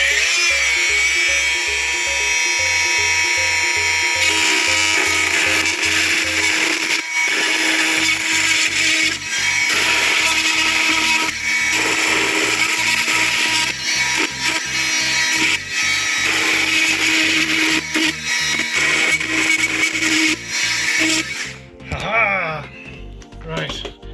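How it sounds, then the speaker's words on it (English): A power tool cuts a notch into the metal lid of an In-Win RM424 24-bay server chassis, a loud, continuous whining grind close by with brief pauses and shifts in pitch. "I'm just going to cut a notch in the back of this stupid lid."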